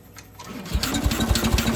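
A starter cranks the engine of a 1968 Case 155 garden tractor, a fast rhythmic chugging that begins partway in and keeps going steadily, close by and moderately loud.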